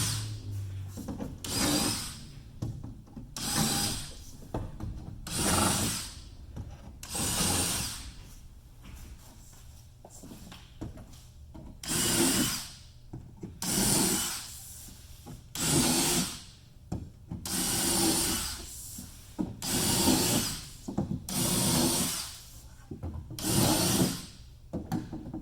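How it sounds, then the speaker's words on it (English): A power drill countersinks screw holes in wood in a series of repeated whirring bursts, each lasting a second or two with short pauses between, steady and close with no voices. "you'll want to countersink each hole"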